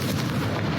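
A Confringo fire spell blasts in Hogwarts Legacy, a short, deep, booming burst that rumbles loud and close for under a second.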